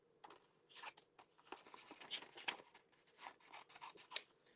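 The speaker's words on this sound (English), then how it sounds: "I'm just going to bring my scissors here and I'm just going to do kind of a rough cut" Scissors rough-cutting a sheet of floral-patterned paper for a crafting project, a quick series of close, crisp snips and rustles in a quiet room with no talking.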